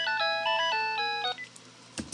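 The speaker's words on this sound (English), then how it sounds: "sorry about the phone, guys." A melodic phone ringtone trills through a short repeating run of bright electronic notes, then cuts off and leaves a quiet room.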